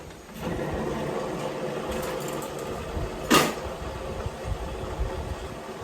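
Thermomix blending banana muffin batter on speed 4 for ten seconds, a steady mid-pitched motor whir with a brief louder surge partway through, heard alone at moderate volume.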